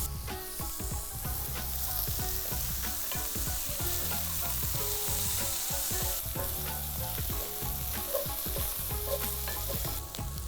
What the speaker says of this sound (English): once you've got the meat in the pan, situate it where it needs to go and just leave it and let it sit in one spot